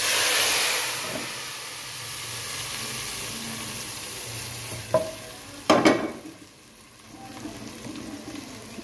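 Hot tadka tempering with red chili is poured into a pot of kadhi: a sudden loud sizzling burst after a steady background hiss, then fading back to a gentle simmer.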